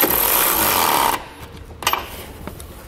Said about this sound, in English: For the flange nuts on the outside of the frame, you can use a 3/4 inch socket or a 19 millimeter socket and snug those up.